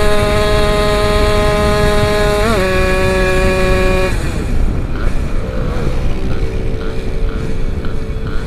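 Motorcycles racing on a bypass road, a high two-stroke engine whine holding steady then dropping as the throttle eases, with another bike overtaking, loud and close.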